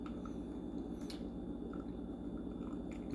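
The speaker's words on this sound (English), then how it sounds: "the water, without any additional pressure beyond gravity, falls through into the bottom chamber" Water filters by gravity through coffee grounds in a flip coffee maker, giving a faint, close, soft squishing and dripping with a few small drips over a quiet background.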